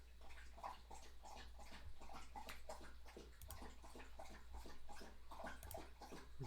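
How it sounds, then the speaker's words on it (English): A dog lapping water from a bowl, a quick steady rhythm of small wet laps repeating close by but quietly over a low constant hum, with no talk. "That's my dog drinking"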